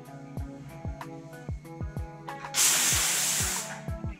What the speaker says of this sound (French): servez-vous de la vapeur pour nettoyer aussi le cadre